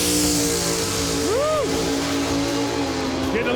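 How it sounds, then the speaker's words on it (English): Loud, steady engine roar of a 1968 Six Pack Barracuda at a drag race, a continuous heavy drone with a brief rising whine partway through and crowd noise underneath. "Car sounds angry."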